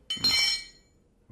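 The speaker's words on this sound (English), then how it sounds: "I dropped that Phillips head." A Phillips head screwdriver dropped during carburetor work gives a short bright metallic clink and rattle, a second small knock following just after, close and fairly loud.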